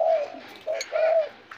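Crossbred pigeons cooing in an aviary, a few soft throaty coos in quick succession, close and clear with no talk.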